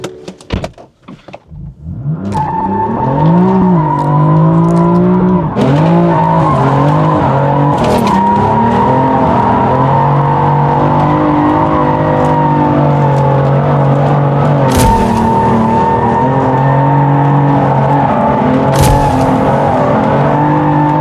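A BMW M4 Heritage drifts through the second turn at Rustavi International Motorpark, engine revving in rising and falling sweeps while tires squeal loudly and continuously, close and sustained for about twenty seconds with a few sharp knocks.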